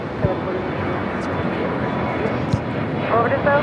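A jet airliner's engines roar steadily at LAX, a broad, sustained wash of noise with a faint whine rising near the end, heard over continuous background sound.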